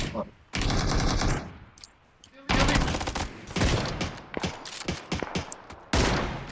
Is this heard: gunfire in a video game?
yes